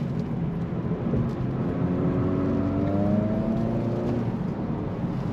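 A 2026 Acura Integra A-Spec under hard driving makes a steady cabin engine drone, with several rising tones as it climbs through its simulated gear shifts.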